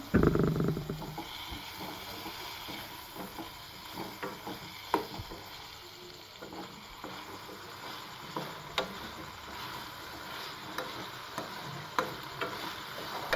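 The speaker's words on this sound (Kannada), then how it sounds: "ಕೆಳಗೆ ಅಂಟ್ಕೋದಿರೋ ಹಾಗೆ ನೋಡಿಕೊಂಡು ಫ್ರೈ ಮಾಡ್ಕೊಳ್ಳಿ" Pre-cooked moringa drumstick pods fry in a pan with a steady, close sizzle, broken by scattered stirring clicks and scrapes throughout.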